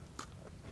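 A single sharp crunch as a Maryland Cookies Thins cookie is bitten, one quick crisp snap near the mic, followed by quiet.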